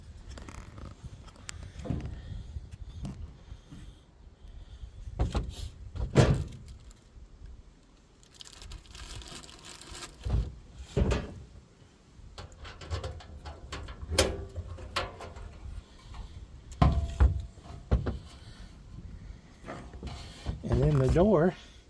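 Keys jangle and click in the lock of a Harbor Freight Vulcon welding cart cabinet, then the metal door latch clunks and rattles open in several sharp, separate mechanical bursts with quiet pauses between.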